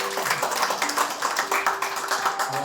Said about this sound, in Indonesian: Kasih tepuk tangan bagi Tuhan.